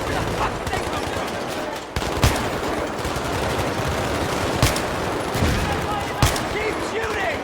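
Battlefield 3 video game gunfire: continuous loud automatic fire and fusillades with sharper single shots cutting through, under shouted voices in the game.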